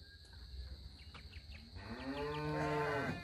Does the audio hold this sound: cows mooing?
yes